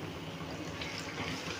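Water poured into a pan of paneer malai curry, a steady soft splashing trickle that runs continuously at a quiet level with no talk.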